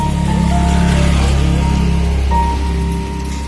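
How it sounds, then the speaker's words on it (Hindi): Heavy rain pouring down outside, a loud, constant wash of noise over a steady low hum, with faint tones drifting through and no voices. "बाहर देखिए जोरों से बारिश होना स्टार्ट हो गया है"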